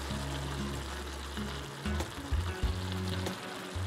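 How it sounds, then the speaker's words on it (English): Heavy whipping cream sauce with tender vegetables simmering in a pan for a keto chicken pot pie, giving a steady soft bubbling sizzle close by, with a low hum running underneath and no talk. "let this sit here and simmer until that sauce gets nice and thick"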